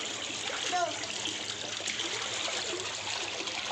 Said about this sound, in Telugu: ఈత కొడుతుంది, వచ్చా రాదు.